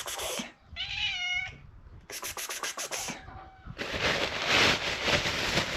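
A cat gives a drawn-out meow, then a few quick meows follow, with rustling and soft handling noise around them.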